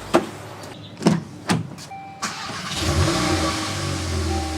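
A 2022 Volkswagen Golf R MK8 fitted with an MST Performance full intake, starting up with a few sharp clicks and thuds, then settling into a steady, moderately loud idle rumble close by.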